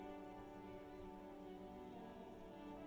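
Rain falls steadily over the city in the video game Disco Elysium, a soft, even patter under a low, sustained tonal drone, quiet throughout.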